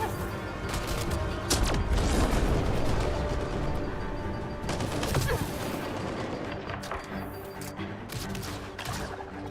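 Gunfire in the sci-fi shooter Mass Effect Andromeda, played with mods: dense bursts of shots and crashing impacts, loud and close, with a brief quieter gap.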